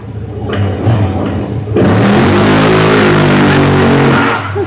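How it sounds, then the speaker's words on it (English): A CF Moto engine roars into a sustained high rev during a burnout attempt, loud and close, with a steady buzzing drone that holds for several seconds after a brief rise. "Will it do a burnout?"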